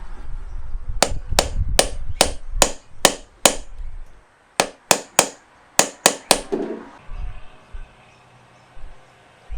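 Sharp metallic hammer blows on a 36 mm socket pressing an engine seal into an RB25 engine, struck in two quick runs of about seven and six taps, close and loud, with no talk.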